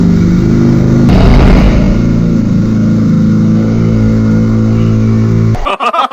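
Rally car engine roaring loud and close as it races past, a steady throaty drone that holds for over five seconds before cutting off abruptly.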